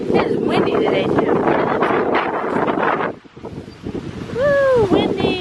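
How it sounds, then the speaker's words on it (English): Strong wind gusts buffet the microphone during a walk in a park, with loud rumbling roar for about three seconds, a brief lull, then more blustery wind as a voice calls out over it. "Woo, windy!"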